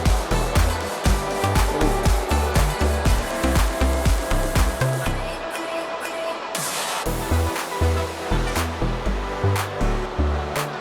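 A rain-swollen stream pours fast and loud near a temple in Thiruthani, its rushing, broadband flow steady throughout with a rhythmic churning pulse and a brief dip midway.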